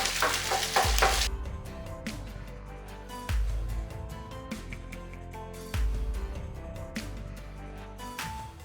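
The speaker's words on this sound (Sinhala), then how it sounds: "අපි ඒකට දාගන්නවා බිත්තරේ. දැන් අපි ඒක හොඳට මෙහෙම කෑලි වලට කරා ගන්න ඕන බිත්තරේ." Egg frying in a hot pan for Sri Lankan dolphin kottu, sizzling steadily while a utensil stirs and breaks it into pieces, with several loud scraping, clanking strokes against the pan.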